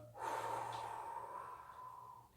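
One long, steady breath drawn in through the nose during a yoga exercise, close and audible, sustained for about two seconds before tapering off.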